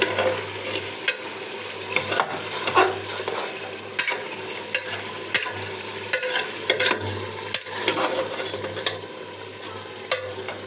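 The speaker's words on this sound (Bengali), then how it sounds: "গরুর মাংসটা ভালো করে লেগে দিব।" Beef being stir-fried in a pan, a continuous sizzle broken by repeated scraping and clattering strokes of a spoon at an irregular pace, close by with no speech.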